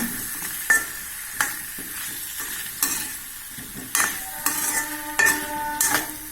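Plantain and vegetables sauté in a pan for a gravy, giving a loud continuous sizzle broken by repeated scraping strokes of a spatula or spoon against the pan, with no voices.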